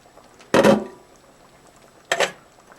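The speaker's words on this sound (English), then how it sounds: "as you can see, it's boiling," Spaghetti sauce simmering in a pot on low heat gives two separate thick bubbling bursts, short and close, with near silence between them.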